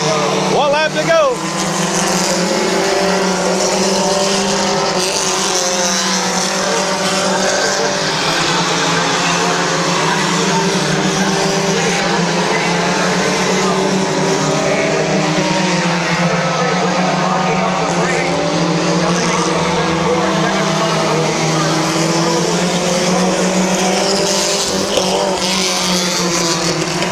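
Compact race cars roar around the Midvale Speedway track during a heat race, a loud continuous engine drone with shifting pitch as the cars pass, while an announcer talks over the racing.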